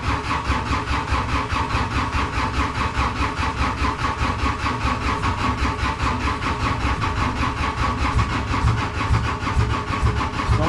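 Giant 1200tele loader engine cranking and catching with a little throttle, a loud, steady, rhythmic rumble that continues unbroken throughout.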